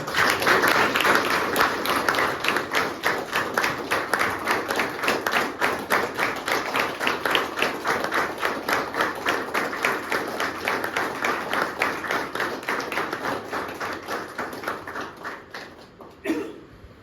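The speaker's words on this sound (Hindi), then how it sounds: "तो एक बार जोरदार तालियां दुर्लभ सिंह जी के लिए" Loud sustained applause from an audience at a rehab center gathering, honoring Durlabh Singh on his recovery from addiction; dense clapping holds steady for about fifteen seconds, then thins and fades, with a brief burst near the end.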